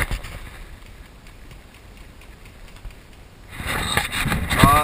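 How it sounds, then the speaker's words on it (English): Strong wind buffets the microphone outdoors, a low rumbling rush that stays moderate, then swells louder and harsher near the end. "It's pretty strong wind."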